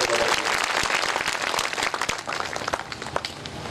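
An audience at the Swarna Jyoti Mahotsav religious celebration breaks into applause, with crisp, dense clapping that is loud at first and then thins into scattered claps.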